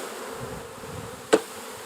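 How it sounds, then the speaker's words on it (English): Honeybees from a freshly installed package buzz steadily around their queen, a dense close humming swarm, broken near the end by one sharp knock. "They all want to be around their queen."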